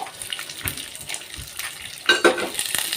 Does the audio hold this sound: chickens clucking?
no